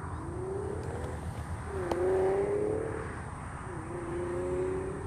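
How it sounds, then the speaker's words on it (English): Freeway traffic near a nature area in Sarasota rolls by in a steady distant hum, with a few vehicles swelling and fading as they pass, under faint outdoor ambience. "And I know I can hear that freeway rolling."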